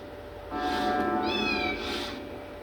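A kitten gives a clear, close, high-pitched meow that rises and then falls. It holds for over a second and is followed by a softer second cry, with steady background hiss behind it.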